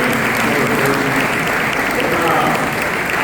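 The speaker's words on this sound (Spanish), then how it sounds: "Se merece también un aplauso. Un aplauso fuerte." Loud, dense applause from a festival audience fills the moment, steady and sustained from start to finish, with voices mixed faintly into the clapping.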